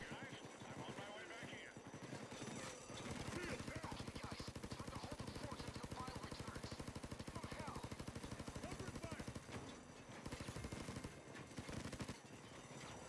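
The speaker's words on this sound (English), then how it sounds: "How am I just shooting stuff with no recoil?" Rapid automatic gunfire in Payday 2, a dense stream of shots from a recoil-free weapon rattling continuously for several seconds, pausing briefly and resuming, with a voice talking over it.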